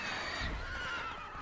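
Roach, Geralt's horse in the video game The Witcher 3: The Wild Hunt, gives a soft, fairly quiet whinny with faint hoof clatter beneath, a single short neigh.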